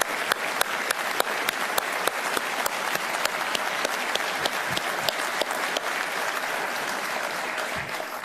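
A Congress audience in Asunción applauds steadily, with dense clapping and occasional sharper claps standing out, continuous and fairly distant throughout.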